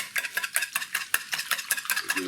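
Free-range eggs whisked in a bowl, quick rhythmic clicking and tapping strokes close by, about five per second, steady and fairly soft.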